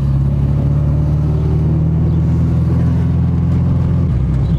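Honda Civic with a built engine, recently restarted, heard idling loudly up close with a steady low rumble and a slight rise in revs near the end.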